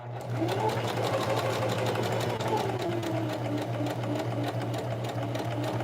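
A sewing machine stitches denim jeans being repurposed into a jacket, following an existing seam, with a steady, fast mechanical hum and rapid needle rhythm running continuously and close.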